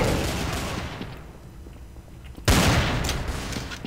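Dense, noisy gunfire bursts in Counter-Strike, fading to quieter action before a loud new volley erupts about halfway through.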